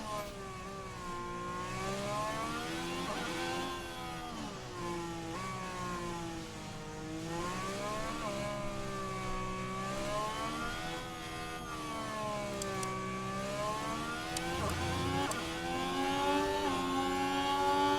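Formula 1 race cars in the F1 Manager 2024 game at the Monaco Grand Prix, a steady, continuous engine whine that rises and falls with gear changes, several cars blending together at constant loudness with no talk.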